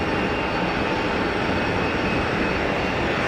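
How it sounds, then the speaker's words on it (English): Etihad Boeing 787 Dreamliner taxiing out at Geneva Airport, heard as a loud, steady broadband jet-engine roar that holds constant with no breaks. "Etihad Dreamy heading out"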